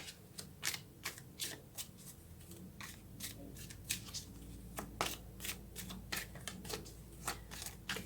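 Tarot cards being shuffled and drawn by hand, quick crisp riffling bursts and soft card slaps in an irregular rapid rhythm, close and fairly quiet.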